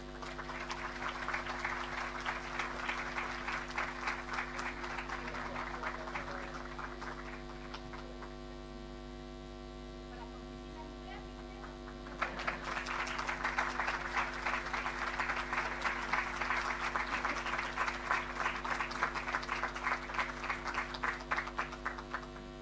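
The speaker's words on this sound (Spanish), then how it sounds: "Los recibimos con un aplauso." An audience at an education seminar applauds during an award presentation, two long stretches of steady clapping separated by a quieter pause, all over a constant loud electrical mains hum.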